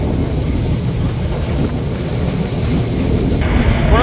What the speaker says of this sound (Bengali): কোনো বিলম্ব ছাড়া আমরা এখন এসে পৌঁছালাম আমাদের 4 নম্বর স্টপেজ চাটমোহর রেলওয়ে স্টেশন